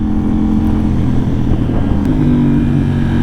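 A 2025 Yamaha MT-09 A2 motorcycle engine drones steadily, a loud low rumble with no speech over it.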